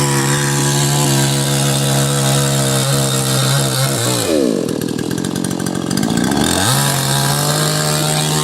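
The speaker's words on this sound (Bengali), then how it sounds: "গাছটা মেশিন দিয়ে কাটছে মেশিন দিয়ে মেশিন দিয়ে গাছটা কাটছে" A chainsaw cuts through a tree trunk on a village roadside, its engine whining steadily and loud, then bogging down into a lower, labouring growl for a few seconds mid-cut before revving back up, with no talk.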